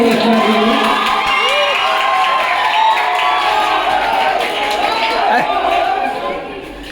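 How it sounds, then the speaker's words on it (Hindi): Loud crowd at a school Teachers' Day celebration, a dense roar of cheering, whoops and children shouting mixed with applause, sustained close up and tapering near the end. "तो एक बार जोरदार तालियां हो जाए।"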